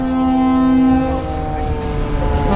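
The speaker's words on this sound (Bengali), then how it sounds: "ব্যাক গিয়ার দিয়ে যাচ্ছে এই মুহূর্তে শুভরাজ নয় লঞ্চ" Passenger launch Shuvoraj 9 reversing in back gear, a loud, steady engine drone with sustained tonal hum and a horn-like tone, close and continuous throughout.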